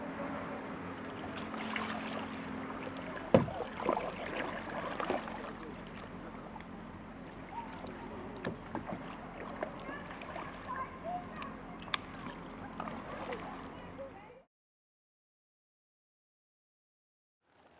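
Oars work a rowboat through the water, with soft splashes, trickles and occasional wooden knocks, faint and fairly even, before everything drops to silence near the end.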